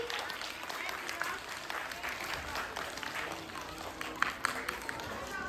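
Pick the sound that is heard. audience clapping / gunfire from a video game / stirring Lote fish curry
audience clapping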